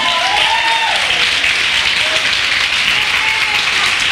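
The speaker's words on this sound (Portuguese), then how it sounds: "Aplauda o nome do Senhor." A church congregation breaks into dense, sustained applause, a loud continuous wash of clapping with faint voices beneath it.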